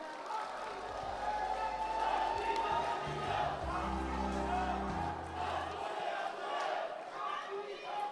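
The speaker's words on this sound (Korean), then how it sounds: "큰 박수 부탁드립니다." An audience at a political forum launch in Gwangju roars with cheers, whoops and clapping, a full crowd swell that rises mid-stretch and eases off, with voices mixed into the din.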